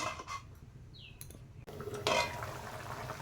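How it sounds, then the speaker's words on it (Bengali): Water is poured into a pot of chicken curry whose meat has been browned in oil. Light clinks come first, then a brief splashing gush. "এবার জল দিয়ে দেবো"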